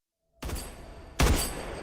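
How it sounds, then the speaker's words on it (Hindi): Two sharp, loud gunshots in a film scene, about a second apart after brief silence, each trailing into a ringing echo. "ये मुझे रागा पर 2 गोलियां चलाता है।"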